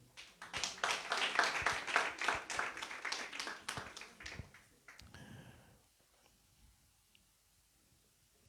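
Church congregation applauding together during a Portuguese-language sermon, a dense burst of clapping that builds, holds for several seconds, then fades into near quiet.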